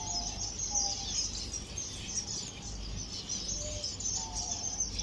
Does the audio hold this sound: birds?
yes